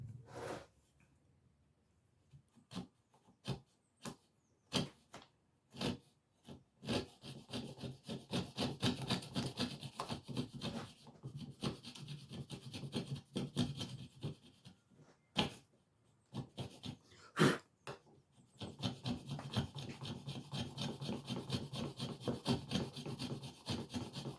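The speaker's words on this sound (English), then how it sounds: "we're just shaving the bottom of the joint" Homemade hand router shaving the bottom of a wood joint held in a vise, a faint rhythmic run of rasping strokes broken by sharp knocks, with no talking.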